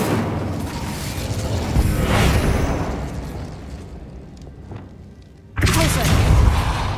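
A fire spell cast in Hogwarts Legacy gives a whooshing burst that swells and fades, followed after a brief lull by a sudden loud blast of magical impact.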